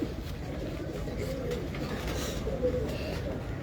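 Pigeons coo on a rooftop amid a dense, steady wash of background noise, the soft calls low and continuous through the short stretch.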